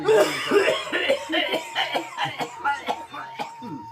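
Repeated harsh coughing from smoking a cigarette, a rapid series of hacking bursts close to the listener, with throaty rasping between them.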